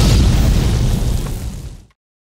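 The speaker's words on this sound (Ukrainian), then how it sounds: "Вибух прогримів майже о першій ночі." A powerful bomb blast at a party office in Odesa at night roars with a deep rumbling boom that swells and then fades out abruptly into silence, loud and close.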